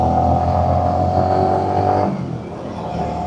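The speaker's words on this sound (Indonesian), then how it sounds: "ini motor Supra GTR-nya" A Suzuki Supra GTR motorcycle engine revs steadily and loud while climbing a hill on the road to Lembang, a sustained drone that eases slightly near the end.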